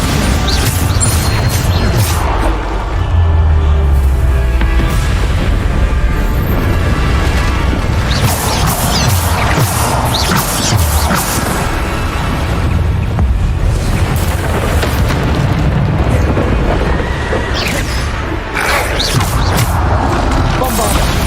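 Hogwarts Legacy combat with the Bombarda explosion spell: repeated heavy booms and crashing impacts pile into a continuous loud roar, with speech underneath.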